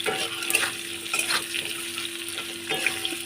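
Coconut and potatoes frying together in a pan, a soft, fairly quiet sizzle punctuated by a few stirring scrapes and light utensil clicks.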